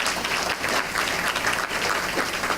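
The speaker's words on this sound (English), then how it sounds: "So give yourselves a round of applause." An audience at a Columbus Rotary middle school fair breaks into a steady, dense wash of applause, many hands clapping at once and sustained without a break.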